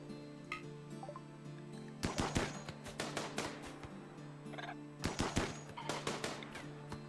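Colonists fire guns in the video game RimWorld, with two clusters of sharp rapid gunshots, each a quick volley of cracks followed by scattered single shots, fairly quiet overall.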